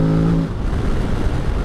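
A Morbidelli T200V adventure motorcycle engine revs loud and close while being ridden, a low steady drone with a brief pitched tone at the start, then rumbling on under rushing wind.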